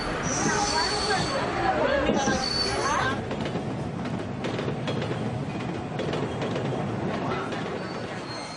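A long-distance passenger train carrying children toward Patna in Bihar gives a steady rumble of wheels on rails, with high squeals early on, heard from inside the carriage amid background chatter.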